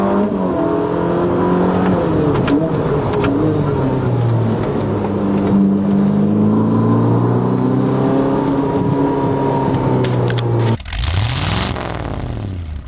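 A Ferrari SF90 sports car engine roars loudly and steadily, its pitch rising and falling through gear changes, then a sharp final surge as it revs up near the end.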